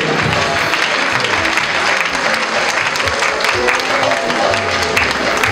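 A church congregation claps and cheers loudly and steadily in acclaim of the name of Jesus during a prayer service, with voices mixed into the dense applause.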